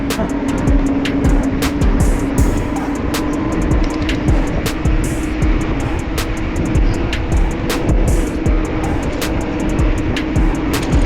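A steady scooter motor drone while riding, constant and close, with wind rush and road noise and occasional sharp clicks or bumps.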